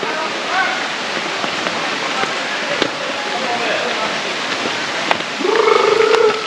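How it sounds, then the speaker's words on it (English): Mountain water pouring down toward a river in Jamaica, a steady broadband rush close by with a brief splashing burst near the end. "water coming from the mountain, coming down"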